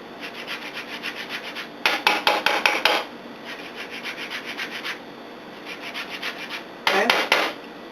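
A lime being zested on a grater for a quick cucumber salad, heard as close, rhythmic rasping strokes, with lighter steady scraping broken by two bursts of faster, harder rubbing.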